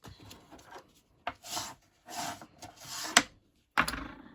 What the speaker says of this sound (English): We can fold and burnish that.